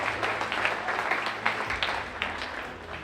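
An audience at a school spring athletic awards ceremony claps steadily for a coach, a dense, sustained round of applause that fills the room without any voices over it.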